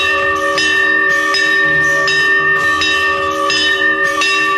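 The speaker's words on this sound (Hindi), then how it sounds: "जब तक गुरुदेव नहीं आते इस मंदिर में घंटानाद गूंजता रहेगा।" Temple bells ring out loud and close in a steady series of struck tones, each strike blooming into a long bright shimmer that overlaps the next, with a low murmur underneath.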